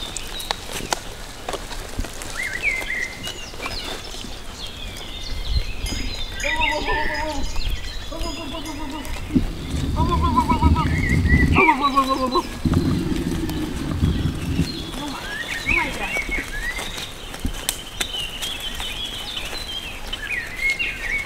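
Goats on a rural Romanian farm in April bleat in a series of close, wavering calls amid shuffling hooves and movement, while people talk nearby.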